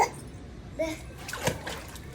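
Children splash and slosh water while bathing, with a few sharp splashes close by and faint young voices in the background.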